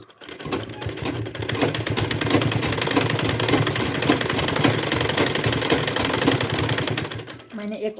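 A sewing machine runs steadily, stitching a zip onto a handmade cloth organizer bag along a three-inch strip, producing a continuous loud mechanical hum with rapid rhythmic ticking across nearly the whole span, with a brief pause near the end.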